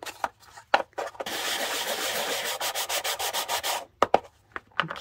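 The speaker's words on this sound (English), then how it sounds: "going to take the sanding block and sand up my heart a little bit." A sanding block is rubbed against a small wooden heart in a craft project, giving close, soft scratchy strokes, a few quick ones, a sustained run of rubbing, then more short separate swipes.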